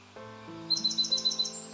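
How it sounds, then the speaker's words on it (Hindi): Birds chirp at the start of the day in Jhalara village, Agar district, Madhya Pradesh: a quick run of about six bright, evenly spaced tweets ending in a rising whistle, heard over a steady low tonal hum. "और यहाँ सिर्फ पक्षी ही नहीं चहचहा रहे हैं।"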